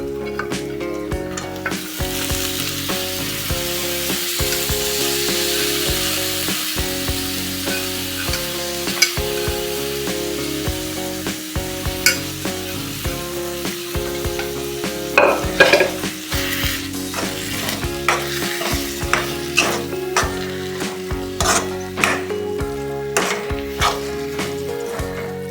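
Boiled sprouts for a Marathi usal are fried and stirred in a pan of hot oil. A steady close sizzle runs under repeated scraping and clinking of a spoon against the pan.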